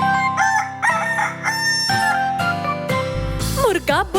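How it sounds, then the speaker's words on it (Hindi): A rooster in a children's Hindi animal rhyme gives a loud, close cock-a-doodle-doo crow over bright musical backing, the call rising and falling near the end. "मुर्गा बोला कुकड़ुक्कू,"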